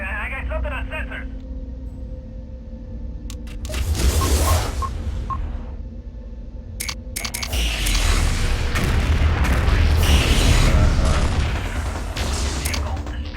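Heavy explosions of a vehicle being destroyed in MechWarrior 2 rumble in two loud swells amid radio chatter and mechanical game sounds, with voices talking over the combat.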